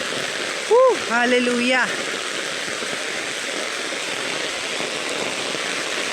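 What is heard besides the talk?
heavy rain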